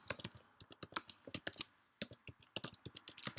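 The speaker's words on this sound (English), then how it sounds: "type the email" Brisk keystrokes on a computer keyboard as an email address is typed into a sign-in form, coming in two quick bursts of close, crisp clicks with a short pause between.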